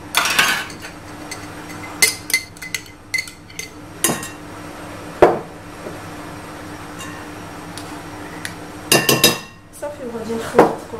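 Shrimp mixed with mayonnaise in a bowl, sporadic clinks and knocks of a utensil against the dish with soft wet stirring between them, close by in a quiet room.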